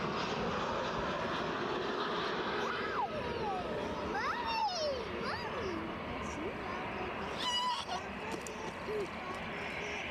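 Aer Lingus A320 airliner on its takeoff run at Edinburgh Airport, a broad, steady jet roar with rising whines, heard from a distance under wind and light talk.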